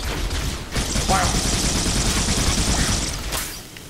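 An enemy weapon fires in the video game Halo: Combat Evolved (Master Chief Collection), a loud, continuous burst of rapid shots lasting a few seconds before trailing off.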